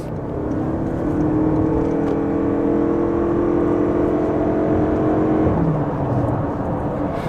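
A Toyota Crown Crossover (AZSH35) at full throttle from 50 km/h, its steady engine drone and road roar filling the cabin, then the engine tone drops and shifts near the end.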